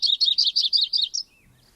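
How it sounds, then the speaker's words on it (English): An Audubon's Yellow-rumped Warbler sings a quick series of about ten bright, evenly spaced chirpy notes ending in a short trill, clear and fairly close with no other sound. "The Audubon subspecies sounds like this."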